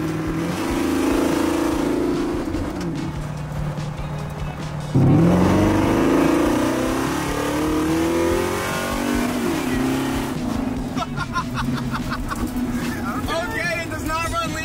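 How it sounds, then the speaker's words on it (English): Supercharged, slammed 1965 Ford Mustang engine revving loudly up close on a test run, with surging throttle blips and a sharp rise in intensity midway, continuing steadily under occasional voices. "I think it's time for one more test run and a real big burnout"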